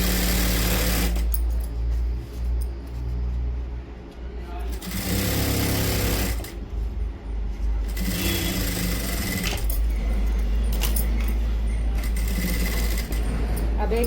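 A sewing machine runs in bursts, stitching the side seam of a Kashmiri palazzo, with loud mechanical whirring that starts, stops and resumes several times across the stretch.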